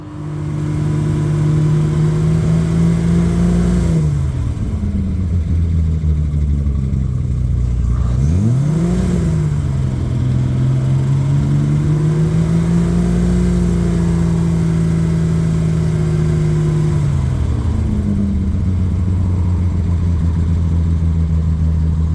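A car engine held at high revs with a steady drone, dipping and climbing back up a couple of times, loud and close.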